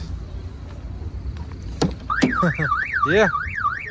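A car alarm on a 2007 car at a car market in Osh sweeps up and down in a rapid warbling siren after a couple of sharp chirps, loud against steady background noise.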